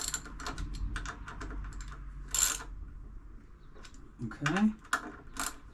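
A ratchet snugs bolts on a 2013 Yamaha FJR 1300 during front tire installation, giving quick, close clicking runs. Metallic clinks follow, and someone speaks briefly.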